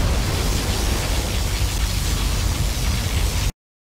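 A particle cannon blast in Command and Conquer Generals Zero Hour, a loud, sustained roaring broadband rush that holds steady for about three and a half seconds, then cuts off abruptly into silence.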